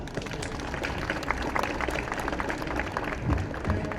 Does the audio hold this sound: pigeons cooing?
no